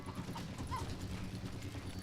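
Horse hooves clip-clop steadily at a stable, with a brief whinny partway through, all fairly close over a continuous background.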